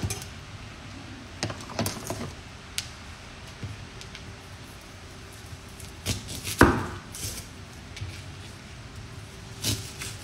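Kitchen knife chopping an onion into smaller pieces on a cutting board, scattered sharp taps at irregular intervals with one louder strike midway, close and fairly quiet over light room noise.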